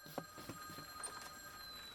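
A telephone ringing in a visual novel game, a steady electronic ringing tone with rapid repeated pulses, moderately quiet and heard alone without talk.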